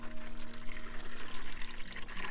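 Water is poured steadily to refill goats' water on a farm during morning chores, a continuous close splashing pour lasting a couple of seconds, with no talk.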